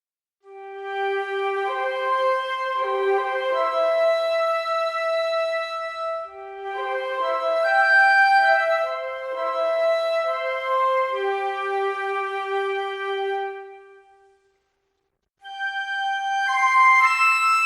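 Spitfire Audio Abbey Road Wondrous Flutes legato patch plays smooth, connected melodic lines of breathy flute notes in a roomy studio, in several phrases with a brief silence before the last, no voices.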